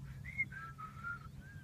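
Faint human whistling, a few short tonal notes that slide slightly in pitch, played quietly over a low background hum, during horse training.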